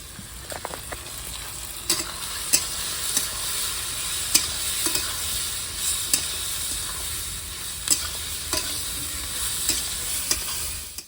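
Turmeric and a cumin-coriander paste are stirred and fried in a pan for a prawn and taro-stem dish, a constant close sizzle broken by regular sharp spatula scrapes and taps, with no voices.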